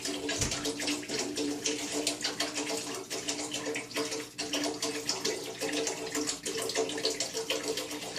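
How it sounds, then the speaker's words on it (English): Tap water gushes into a big pot for cooking noodles, a strong, steady rushing stream up close that holds at a constant level throughout. "Then we're going to add water for the noodles."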